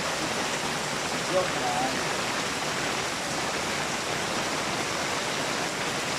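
Rain falls steadily as a broad, even hiss during a rainy coffee break on a trip to San Mateo, Rizal, with a brief spoken remark near the start.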